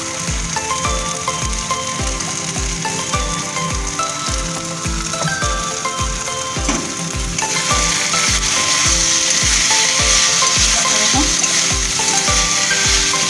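Jute leaves fry in mustard oil as a spatula stirs them in steady, evenly spaced scraping strokes under a continuous sizzle. The sizzle grows brighter and louder partway through.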